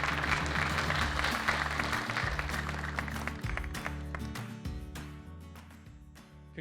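An audience claps for the contestants at a county Poetry Out Loud recitation contest, a steady wash of applause blended with loud sustained music that slowly fades.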